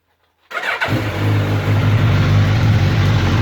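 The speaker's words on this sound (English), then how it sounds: "Alright, we're going to fire her up." A rebuilt Suzuki GSX-S 1000F motorcycle engine cranks after a brief silence, catches quickly and settles into a loud, steady, close-up idle rumble.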